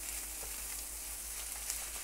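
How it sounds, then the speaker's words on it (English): Egg fried rice with shrimp being stir-fried in a pan, a steady, soft sizzle running evenly throughout with no talking. "We'll keep stir frying around until there's no more liquid in the pan."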